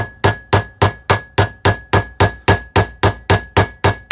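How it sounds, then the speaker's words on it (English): Heavy hammer of about 1 to 1.5 pounds striking the metal butt cap of a drawknife handle to tighten it, sounding as fourteen sharp, evenly spaced blows close by, each ringing briefly, with no talk. "This is a little bit of a heavy hammer."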